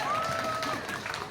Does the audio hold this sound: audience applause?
yes